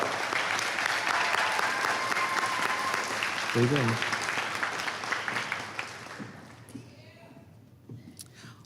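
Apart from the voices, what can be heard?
applause for graduates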